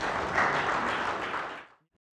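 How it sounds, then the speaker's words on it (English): Studio audience at a church Christmas interview series applauds a guest, moderate dense clapping that fades out abruptly after under two seconds. "let's have a round of applause for Mary"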